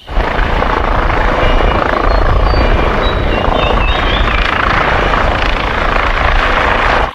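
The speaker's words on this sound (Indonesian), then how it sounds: "Widih, widih, ada helikopter." A loud, steady toy helicopter whir with a rotor drone holds continuously throughout, close and constant with no talking over it.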